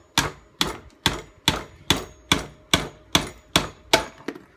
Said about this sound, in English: I've got a screwdriver which is the right size, smaller than the pin, so I can drive that pin right the way through